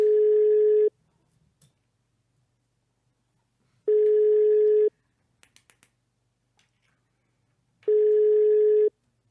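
A telephone line beeps in three evenly spaced tones, each about a second long, clear and steady with silence between them, as a call is placed.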